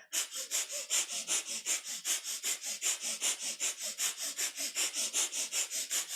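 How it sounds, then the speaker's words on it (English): Rapid, rhythmic breath of fire during kundalini yoga practice: about two dozen short, forceful nasal exhalations pulse steadily and evenly, close and fairly loud, with no talking. "We're moving this prana, this life force energy, this lovely healing energy through the body with this breath of fire and with this movement."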